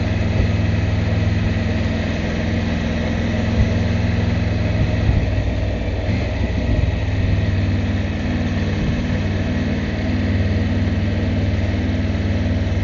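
A motorbike engine hums steadily while riding along a country road, a constant mid-low drone with wind rush and no talk over it.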